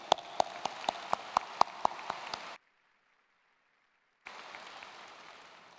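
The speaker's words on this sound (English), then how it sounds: "How about another round of applause for our band and chorale?" Audience applause for the band and chorale at the Parkland High School 2022 commencement, a wash of clapping with sharp rhythmic claps standing out, then a sudden cut to near silence before a softer stretch of clapping resumes.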